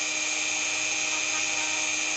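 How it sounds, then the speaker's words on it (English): A drill used in fly tying to smooth the edges of booby cord whines steadily at high pitch, loud and constant throughout with no talking. "I'll turn on that drill. It'll be a bit noisy here now for anybody, not too bad though"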